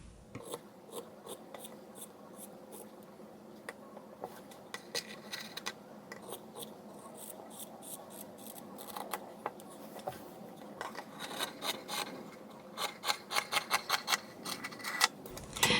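Scissors snip through a cotton t-shirt to cut a bigger neckline, a close series of crisp clicks and fabric rasps that grows into a fast run of cuts near the end.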